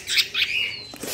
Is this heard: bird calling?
yes